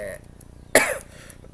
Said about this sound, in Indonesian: saya batuk-batuk ini